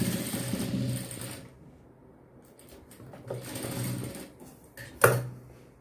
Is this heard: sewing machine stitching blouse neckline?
yes